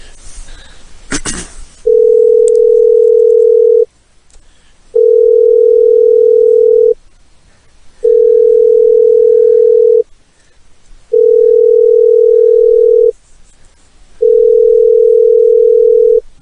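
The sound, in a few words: telephone dial tone while dialing a caller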